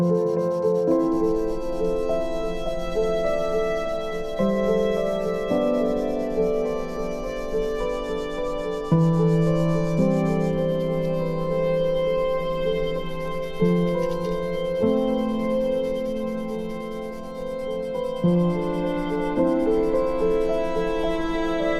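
Continuous rhythmic sanding of a 1/24 scale plastic Toyota AE86 model car body, a dry rubbing scrape repeating steadily for a long stretch, with a faint tonal hum underneath.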